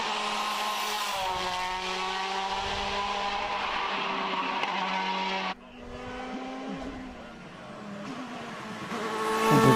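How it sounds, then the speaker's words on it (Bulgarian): Hill climb race car passing at speed, its engine howling loudly in a high sustained tone, then a sharp cut as the driver lifts and the revs climb again toward the end, with no voices. "Страхотен автомобил. Истинско удоволствие за гледане, истинско удоволствие за слушане."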